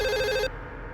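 A telephone bell rings loudly and close for about half a second, then cuts off, leaving quiet room tone.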